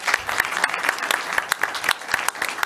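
Audience at a real estate investor conference applauding a panel, steady brisk clapping from a crowd in a hall, moderately close and sustained.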